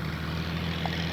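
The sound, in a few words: FMS F4-U Corsair RC model plane flyby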